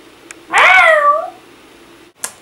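A cat gives one long, loud, clear meow up close, with faint soft noises before and after it and no voices.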